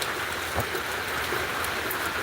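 Steady rain falling in North Georgia, a dense continuous hiss with faint scattered drop patter, evenly loud throughout and without voices.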